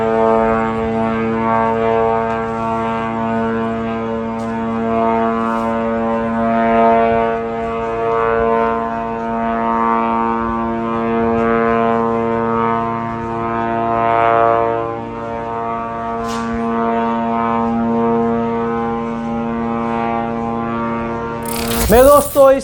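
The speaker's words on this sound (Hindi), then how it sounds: "गाजा के ऊपर लगातार इजराइल के ड्रोन उड़ते हुए नजर आ रहे हैं" Israeli drones fly over Gaza, producing a steady, droning mechanical hum that persists without a break across the whole stretch and ends with a brief burst of louder noise.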